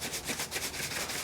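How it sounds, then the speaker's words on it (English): Dry brisket rub of salt, pepper and granulated garlic is stirred and tossed, giving a steady, close, gritty rustling that continues without pause and without talking. "Oh yeah, get it all mixed up real nice."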